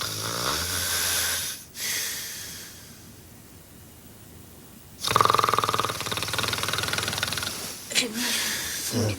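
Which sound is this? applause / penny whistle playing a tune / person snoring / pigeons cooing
person snoring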